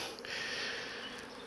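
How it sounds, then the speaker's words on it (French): Honey bees buzz at an opened hive in a dense, steady, fairly quiet hum that fills the short moment with no voices. "Il y a encore beaucoup d'abeilles."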